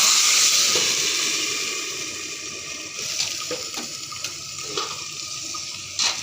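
Boiled greens hit hot tempered oil in a kadai with a loud steady sizzle that slowly settles, broken by a few clinks of a utensil against the pan.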